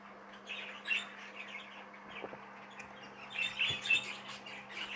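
Baby budgies and other small birds in an aviary nursery flight chirp in scattered bursts, with a steady low hum running underneath throughout.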